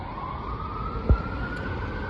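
Emergency vehicle siren passing outdoors, a steady tone held fairly faint and distant throughout, with a brief soft thump midway and no talking.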